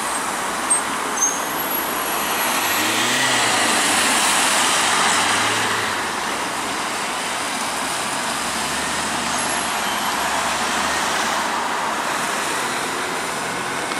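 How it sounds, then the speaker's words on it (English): Arriva Optare Solo M96 buses pass in traffic in Macclesfield, a steady broad road rumble with a swell of nearer engine noise around the middle. "Behind that is another Arriva Solo M96 DSR from Optare."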